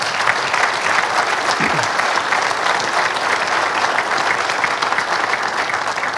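State of the City address audience applauding a development team, a loud, continuous roar of clapping from a large crowd that holds steady throughout, with a brief vocal sound early on.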